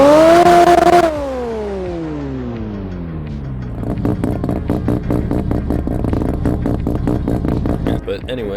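A rotary-engined JDM car in the Roblox video game revs up loud and close, then the pitch sweeps down and the engine settles into a steady, choppy rhythmic idle for the rest.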